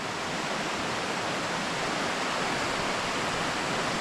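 A waterfall pushing through rocks beside an embankment roars steadily and loudly, a dense, unbroken wash of rushing water with no talk over it.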